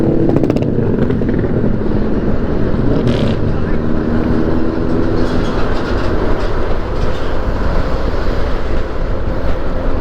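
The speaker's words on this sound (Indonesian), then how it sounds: "Sore-sore di sini banyak anak motor nih" Motorcycles ride along the Pantura highway on Java's north coast on a late afternoon, a steady, loud roar of engines and road rumble that runs unbroken throughout, with no separate passes standing out.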